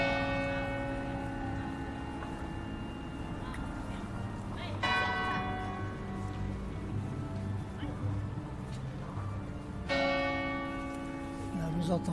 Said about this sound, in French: Là, vous entendez le glas qui vient d'être remis en service